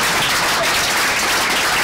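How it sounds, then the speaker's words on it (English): Town hall audience applauding for Governor John Kasich, a dense, steady wash of clapping that fills the whole short stretch at an even, fairly loud level with no speech over it. "Clap again."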